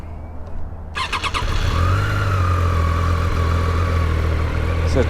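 A Triumph motorcycle engine cranks and catches, then settles into a steady, loud, close idle with a deep rumble that runs to the end, with no talking.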